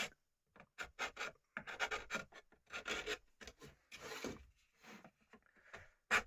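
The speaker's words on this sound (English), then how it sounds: "Just want to go round with the chisel on the end like so, just to take away anything that's" A hand chisel scrapes and rasps against the wood of a speaker baffle being recessed by hand, giving short, close, quiet strokes in an irregular rhythm with small gaps between them.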